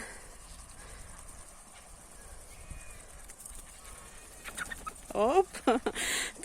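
Quiet outdoor ambience gives way to a burst of chicken clucking and squawks near the end, several birds close by, loud and irregular.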